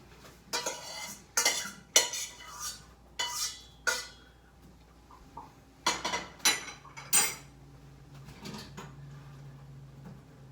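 Noodles for beef stroganoff are drained in a colander amid a burst of clattering metal and pot knocks, sharp irregular clanks and scrapes coming close together, then thinning out into quieter handling.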